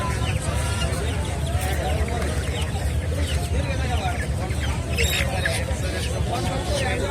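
A dense crowd of chickens and chicks at a poultry market clucks and chirps continuously, a busy close-up chorus filling the whole stretch with no pauses.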